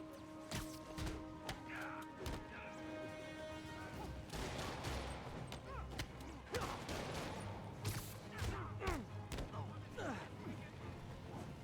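Bursts of gunfire crackle through a Spider-Man video game fight, scattered shots and thwacks and crashes mixed with combat clatter, with voices talking intermittently under the action.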